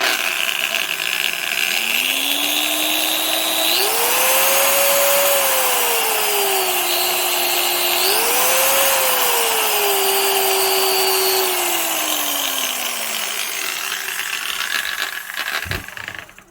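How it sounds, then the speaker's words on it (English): A Makita 13-amp variable-speed 4-1/2 inch angle grinder spins up, its whine rising in pitch in two stages, holding steady, then winding down, loud and close with no talk. "as we spin this up, then that bouncing action actually ceases and it sounds normal."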